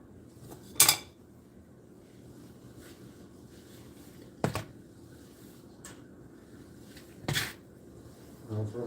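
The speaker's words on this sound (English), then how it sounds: "We're gonna do the dishes real quick." Dishes being washed after meal prep: a few sharp clinks and clatters of pots, pans and cutlery at irregular intervals, spaced several seconds apart over a low running background, with no talking.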